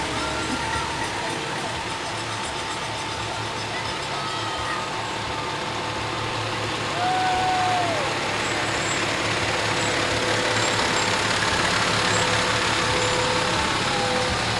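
Fire trucks roll past in a Fourth of July parade, their engines a steady, loud low rumble that swells partway through, with a brief high tone and background crowd noise.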